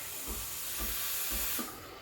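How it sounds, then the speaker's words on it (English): Steam wand on a Breville Barista Express frothing milk, a bright continuous hiss with soft rhythmic low gurgles repeating about every half second, ending in a sharper burst. "Don't turn off the steam for too long"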